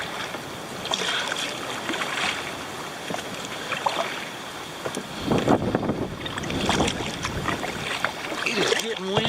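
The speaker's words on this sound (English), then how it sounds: "It is getting windy." Wind gusts buffet a kayak on the swampy Lynches River, a steady rushing roar with light water sounds beneath and a voice talking at times.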